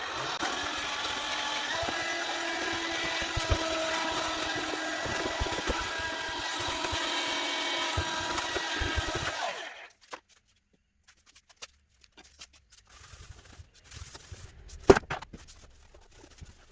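A vacuum cleaner drones steadily around a hydraulic pump reservoir for about nine seconds, a loud close whine with a tonal hum, then cuts off, leaving sparse faint clicks and knocks of handling.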